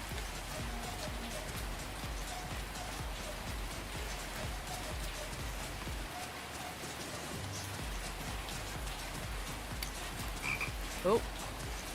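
A green tree frog croaks in steady heavy rain at night. The rhythmic croaks are fairly close and repeat under a constant wash of rainfall.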